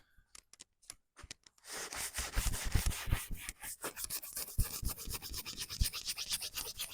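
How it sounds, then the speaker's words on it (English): Brisk scrubbing of a convertible Mini fabric soft top roof worked with cleaner, opening with a few separate brush strokes before settling into continuous, uneven rubbing close by, with no talk. "I might just give it a second little scrub just to give it a once over"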